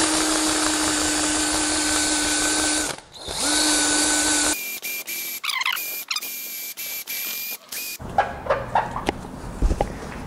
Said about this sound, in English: With the wheel, just go back over the top of those.